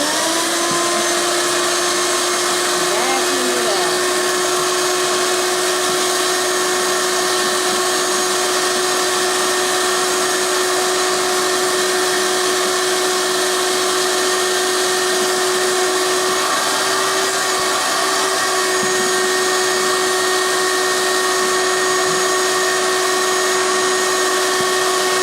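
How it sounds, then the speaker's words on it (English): A shop vac runs continuously while vacuuming debris and gunk off the floor, a loud, steady motor whine with a strong drone and occasional rattles of material sucked up, close and uninterrupted with no talking. "And then just take the shop vac."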